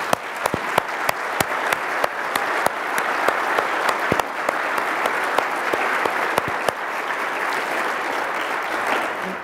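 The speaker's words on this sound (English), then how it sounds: "Y'all please give our speakers a round of applause" An audience at a chamber of commerce business breakfast gives speakers a round of applause: sustained, even clapping from a mid-sized crowd with crisp individual claps popping out, no talking.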